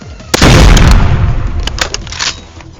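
Gunfire in the Roblox shooter Hypershot: a loud sharp shot opens a rumbling burst, followed by several quicker cracks and impacts that fade toward the end.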